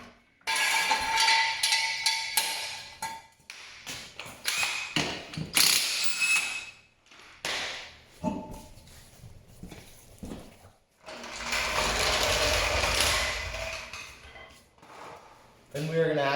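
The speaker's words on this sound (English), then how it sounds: "using a suitable floor jack, I'm going to jack up the front end" Rapid ratcheting clicks and metallic pumping of a floor jack raising the front end of a Polaris Sportsman 850, coming in bursts with pauses, then a longer sustained grinding stretch, all close-up.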